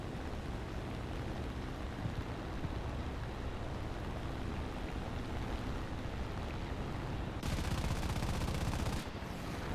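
Sustained gunfire from a War Thunder battle, a dense continuous rattle of shots with engine drone, steady and loud throughout with a brief louder burst near the end.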